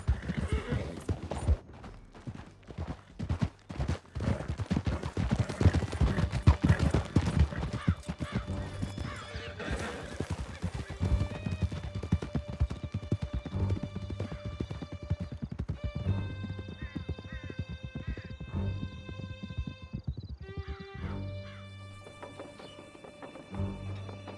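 Horses gallop in Red Dead Redemption 2, with dense rapid clip-clop hoofbeats and whinnies, loud and continuous over a pounding score for most of the stretch, thinning toward the end.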